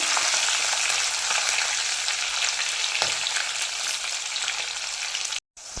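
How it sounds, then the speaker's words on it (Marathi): Curry leaves and green chilies fry in hot oil for a potato sabzi, a loud, dense, steady sizzle up close with faint crackles and no talking, cutting out briefly near the end. "आता कढीपत्ता आणि आता मिरची मिरची दोन मिनिटांची चटवून घ्यायची"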